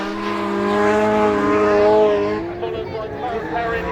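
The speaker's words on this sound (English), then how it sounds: "we heard the drifters" Powerful drift cars of up to 1100 horsepower rev and scream nearby on a race track, the pitch climbing and then falling away as they pass, with voices talking over the roar.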